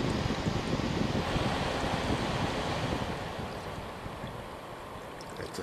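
A Koolance 140 mm computer cooling fan running at low RPM gives a steady, broad airy whoosh close to the microphone, fading slightly toward the end, with no voices.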